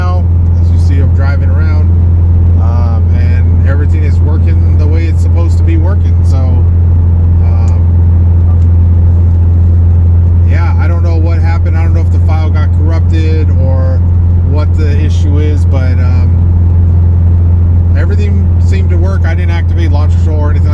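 A 500 WHP Subaru build drives along, its engine and road noise forming a steady loud drone throughout while someone talks over it.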